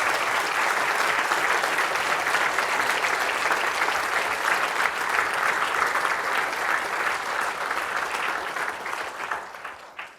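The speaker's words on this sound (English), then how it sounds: "big round of applause for today." An audience at a university library conference plenary gives a long, dense round of applause from a large crowd. It holds steady for several seconds, then tapers off quickly at the end.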